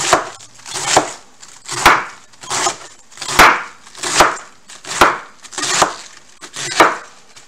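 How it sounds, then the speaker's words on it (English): A knife chops through a firm, tightly packed head of cabbage on a cutting board, sounding as a steady series of eight crisp, close chops with short crunchy scrapes between them and no talk. "Chop it all up. Nice tight cabbage."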